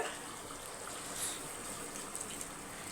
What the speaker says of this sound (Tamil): இங்கே பாருங்கள் நான் பாதி தண்ணி தான் ஊற்றிக்கிறேன்